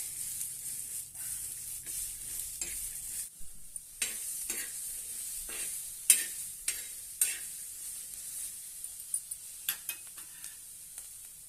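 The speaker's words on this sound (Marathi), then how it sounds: "तावा गरम करायला ठेवलेला आहे, त्याच्यावर आपण ह्या बिया भाजून घ्यायच्या आहेत।" Fresh pigeon pea seeds are dry-roasted on a hot tava. A steady sizzling hiss runs under repeated scraping stirs that grow sharper and more frequent toward the end, with no talking.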